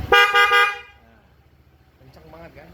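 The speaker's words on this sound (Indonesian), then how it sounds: "Untuk klakson pakai yang umum dan banyak di pasaran. Denso waterproof, suaranya dijamin kencang banget." A Denso waterproof horn fitted to a Honda PCX 160 scooter gives two quick loud honks close by, followed by a voice speaking briefly.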